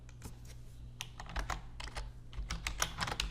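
Quick, uneven bursts of keystrokes on a computer keyboard, close and fairly soft, with clusters of taps and short pauses between them and no voices.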